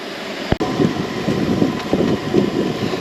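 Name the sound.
strong wind at a Jeep campsite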